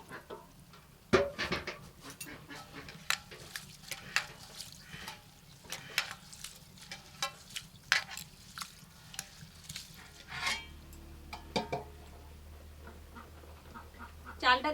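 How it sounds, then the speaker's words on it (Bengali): Gobindobhog rice is washed by hand in a pot of water while making bhog khichuri, with close, steady sloshing, splashing and dripping plus occasional light clinks against the vessel. "চালটা ভালো করে ধুয়ে নেব"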